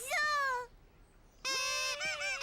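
A cartoon toy horn honks in two bursts of bright, nasal, warbling tones, a long blast followed after a short silence by a second, choppier series of honks, loud and close.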